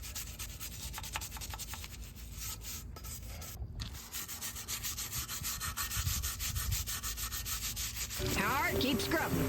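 Steady, close scrubbing of a vintage motorcycle frame, a continuous rasping rub with rhythmic strokes throughout and a brief pause partway.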